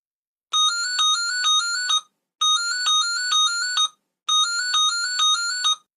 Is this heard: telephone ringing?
yes